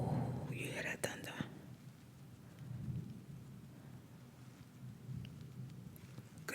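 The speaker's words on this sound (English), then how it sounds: "Oh, you hear that thunder?" Low thunder rumbles softly in the distance amid rain, with whispering near the microphone and small crackly handling sounds during close-up makeup application.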